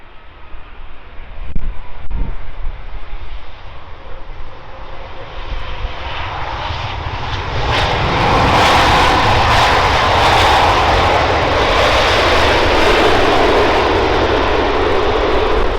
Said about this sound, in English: I think it might be an A380.